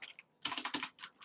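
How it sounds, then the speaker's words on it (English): Quick keystrokes on a computer keyboard during C# coding, a dense burst of clicky taps after a few light presses, close and crisp with no voices over it. "I'm not typing well today"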